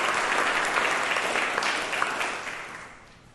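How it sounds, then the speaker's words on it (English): An awards-evening audience at Marine Corps Base Quantico applauds the color guard and brass quintet, steady close clapping that gradually tapers off over three seconds. "how about another round of applause for our color guard and our brass quintet"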